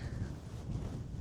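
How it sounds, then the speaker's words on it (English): Strong wind blows outdoors on a nature walk near ancient tombs above a city, a low rumbling buffet of gusts battering the microphone, fairly quiet overall and steady with no speech. "Today it's windy, very windy."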